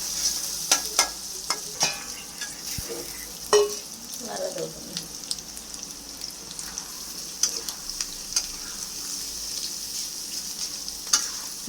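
Chopped onion and green chilli frying and being stirred in a wok, with a steady quiet sizzle and repeated scraping and clinking of the spatula against the pan, no talking.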